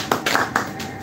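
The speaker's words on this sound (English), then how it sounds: "Can we put our hands together for him?" A few sharp, separate hand claps from a classroom audience at a training session, three or four quick claps close by in about a second.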